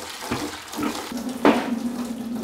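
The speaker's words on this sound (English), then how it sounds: "And I'm just gonna stir these up with hot water." Hot water runs steadily from a tap or jug into a container to dissolve hydroponic nutrient salts such as calcium nitrate for a nutrient film technique system, a close, continuous splashing pour with no talk.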